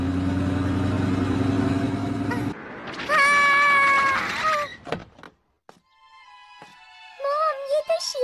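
A cartoon cat's meows in an animated Doraemon episode, a couple of drawn-out tonal mews followed by shorter ones after a pause, loud and close amid other cartoon sound effects.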